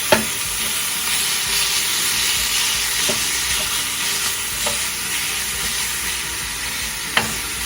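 Seasoned ground beef frying in a pan, a steady close sizzle with occasional scrapes and taps of stirring, no voices.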